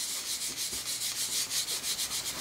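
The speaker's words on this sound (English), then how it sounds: "make sure you rub nicely, not too hard, just gentle" A card is rubbed back and forth on cardstock in a steady rhythm of soft, close scratchy strokes, roughly five per second, with nothing else heard.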